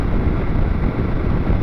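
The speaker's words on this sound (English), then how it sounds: "It is getting windy now in the helmet" Steady wind roar buffets a rider's helmet at speed on a Triumph Tiger 900 GT Pro motorcycle, a continuous close, loud broadband rush with no talk.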